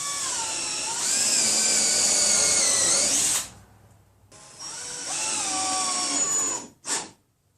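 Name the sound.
drill driving screws into bookcase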